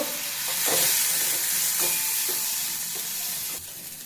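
Baby corn sautéing with turmeric in a pan makes a loud continuous sizzle and hiss, punctuated by several sharp scraping stirs of a spatula against the pan, with no one talking.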